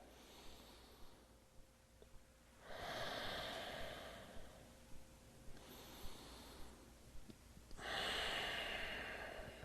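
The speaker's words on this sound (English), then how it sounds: "just take a couple breaths here to kind of get set" Slow, calm breathing in an easy seated yoga position: soft, airy inhales and exhales come in long, even waves, quiet and close, with several full breath cycles and no talking.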